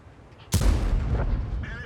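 A single heavy tank cannon shot in World of Tanks, a sudden sharp boom followed by a rolling low rumble that decays over about a second, with faint background noise.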